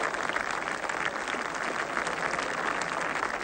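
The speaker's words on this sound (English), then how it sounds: "That's good applause." Golf gallery at the 1977 Open Championship claps after a shot rolls near the hole, a steady, fairly distant spread of outdoor applause holding level for a few seconds.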